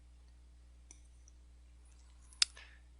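Mouse clicks on a web page button: a faint tap followed by one sharper, close click, quiet against a low steady hum.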